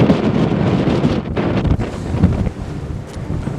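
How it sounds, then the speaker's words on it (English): Strong wind buffets the microphone at a castle ruin, a steady roaring rush with gusty surges and dips throughout, loud and close, with no voices. "that wind's getting up again"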